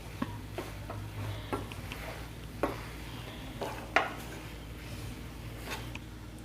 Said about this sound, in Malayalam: ഇനി ഇളക്കി യോജിപ്പിക്കുക